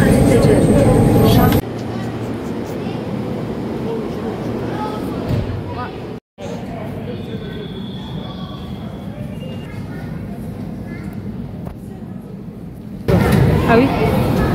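Steady low rumble of a metro train in motion in Algiers, with a brief dropout midway and louder roar at the start and end; people talk over it.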